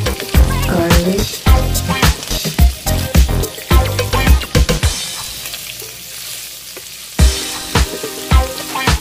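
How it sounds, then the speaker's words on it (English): Pork liver fries in a small amount of cooking oil, sizzling loudly up close with stirring scrapes and bursts of spattering that ease off briefly before picking up again. "Fry the pork liver and add a small amount of cooking oil."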